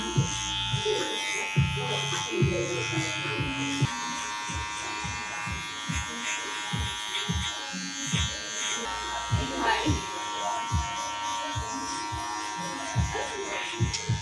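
Electric hair clippers fitted with a number 2 guard cut thick Asian hair in a textured grown-out buzz cut, buzzing steadily up close with pulsing strokes while someone talks over them.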